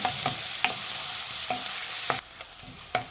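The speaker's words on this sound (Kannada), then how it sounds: "ಈರುಳ್ಳಿ ಒಂದು ಸ್ವಲ್ಪ ಫ್ರೈ ಆಗಿದೆ" Chopped onions frying in a pan for egg kurma, a steady close sizzle broken by several sharp scrapes of a spoon stirring, with no voices.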